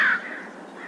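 A single harsh American crow caw at the start, loud and close, trailing off into quiet background.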